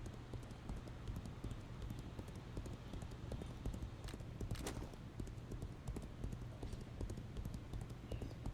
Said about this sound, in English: she's got a horse here, so she can pack stuff on the horse as well